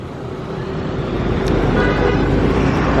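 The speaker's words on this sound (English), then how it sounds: "You don't want to be in the path of that oncoming car" Busy street traffic near a mall in Angeles City, Philippines, with cars passing close by and a short horn toot rising over the steady roadway rumble.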